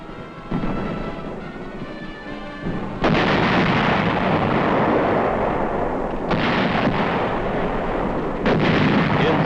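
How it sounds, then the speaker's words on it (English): Korean War artillery fire, distant heavy booms rolling into a continuous thundering rumble that swells after the first few seconds and stays loud, with no voices. "artillery fire is called for to loosen enemy supporting areas"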